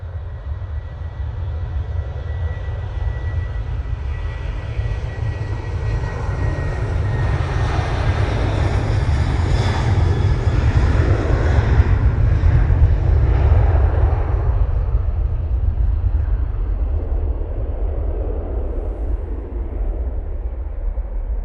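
A Ryanair jet departs Manchester Airport, its engine roar swelling steadily to a loud, broad peak midway and then easing off but staying strong to the end, with no talk over it.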